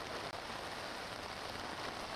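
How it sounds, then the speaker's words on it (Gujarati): Heavy rain pours down in Surat as a steady, dense hiss at moderate level, with no thunder evident. "હાલમાં સુરતમાં ધોધમાર વરસાદ શરૂ થયો છે"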